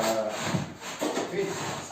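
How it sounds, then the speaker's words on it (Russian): An old wooden floor creaks and rubs under weight in a few drawn-out groans, moderately loud against a quiet room. "Видите, скрип вообще сильный очень."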